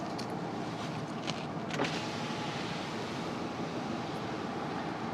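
A car's electric power window runs with a low, steady motorised hum inside the vehicle at a harbour in Wrangell, Alaska, faint and continuous beneath a soft rush of wind and cabin noise.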